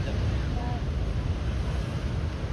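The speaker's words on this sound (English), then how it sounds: "the waves are getting really dangerous" Ocean waves wash in at a Hawaii beach as a steady, broad roar, with wind buffeting the microphone throughout.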